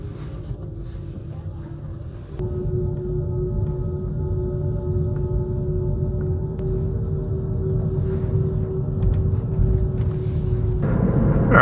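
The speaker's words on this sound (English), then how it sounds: "so there should be a fair amount of road noise you can hear, wind going by" Steady low road rumble and wind rush inside a car cruising at about 40 mph, a continuous broadband drone with a faint tonal hum that grows slightly louder partway through, with no talking.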